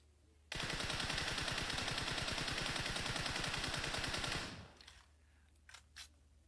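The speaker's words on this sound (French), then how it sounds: "j'ai tiré tout en contrôlant la montée vers le haut avec le gyroscope" Automatic gunfire in the video game PUBG, a loud sustained burst of rapid shots lasting about four seconds, followed by a quiet tail and a couple of faint clicks.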